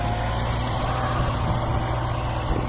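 A Solis 105 tractor engine idles nearby, a steady low diesel rumble that runs unbroken and fairly loud from start to finish with no talking.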